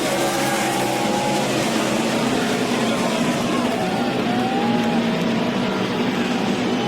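NASCAR Nationwide stock cars on a restart at a road-course race, a loud continuous wash of engine roar with rising and falling tones as several cars pass, with faint commentary underneath.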